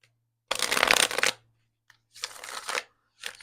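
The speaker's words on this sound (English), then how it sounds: "I'm going to do one more shuffle" Tarot cards shuffled by hand in three bursts: a long riffling flutter, a pause with a soft tap, then a shorter shuffle and the start of another, close and crisp in a quiet room.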